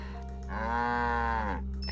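A single drawn-out cow moo from the video game Nancy Drew: The Captive Curse, clear and fairly loud, rising from a low hum and fading after about a second.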